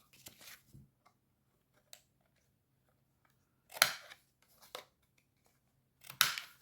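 Scissors cut paper for a handmade card in a few short, crisp snipping bursts separated by quiet pauses, close up.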